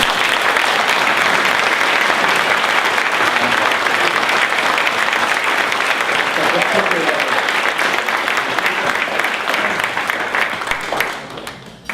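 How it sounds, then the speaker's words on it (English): Long, loud, heartfelt applause from a large audience honoring a speaker at an event, continuous dense clapping that stays strong for about twelve seconds before tapering off quickly near the end. "You could tell from the heartfelt applause"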